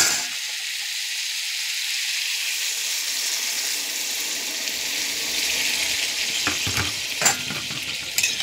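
Broth poured over sautéed vegetables with salt in a pan, a steady close sizzle and hiss that builds slightly, with a few clinks and stirring scrapes near the end.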